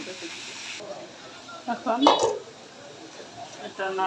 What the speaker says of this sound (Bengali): এখন ঢাকনা দিয়ে